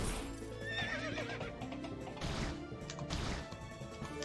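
Horses in a fantasy video game neigh and whinny loudly among clip-clopping hooves, with crashing thuds in a busy game soundscape. No one talks.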